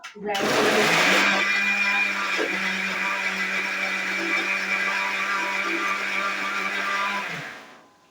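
A mixer grinder whirs loudly and steadily for about seven seconds, grinding spices and chopped onions, then spins down to a stop.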